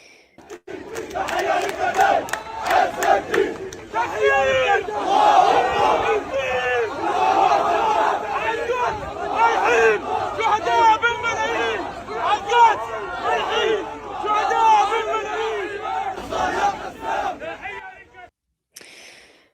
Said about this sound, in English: Journalist Saeed Hezbollah filmed massive crowds of mourners taking part in the funeral procession for al-Haddad and his family after they were killed.